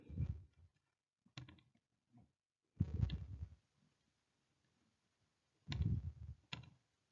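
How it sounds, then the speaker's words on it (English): Fingers tap numbers into a handheld calculator in a quiet room, giving a few short bursts of soft clicking with pauses between them. "I'm going to type that in my calculator and see what I get"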